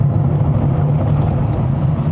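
Engine of a 2024 Proton S70 Flagship X held near 4000 rpm in second gear on a mountain road, a steady low drone with road noise, continuous and unbroken, no talking.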